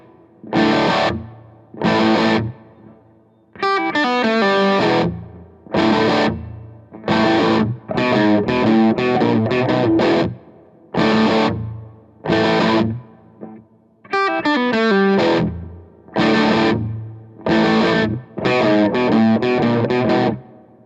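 Electric guitar through a Marshall Origin 20 amp with the tilt control at zero, crunchy chords and riff runs played in rhythmic bursts separated by short silences, loud and close.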